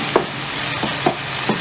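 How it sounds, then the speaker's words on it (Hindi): Softened tomatoes are mashed in a pan for mutton curry, with a few spaced thuds and scrapes of the utensil over a constant low sizzle. "अभी इसको इस तरह मैश कर लेंगे इसको"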